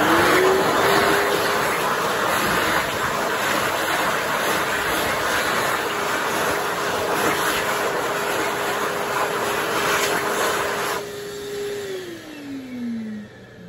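An Excel Xlerator hand dryer at a Mobil/7-Eleven in Phelps, New York, blasting a loud, steady high-speed air roar with a motor whine that rises at the start, holds, then drops as it winds down near the end.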